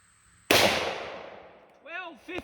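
A single loud, sharp gunshot from a Ruger Alaskan .454 revolver with a 2.5-inch barrel firing a Barnes XPB handload, its blast decaying over a second before a voice calls out.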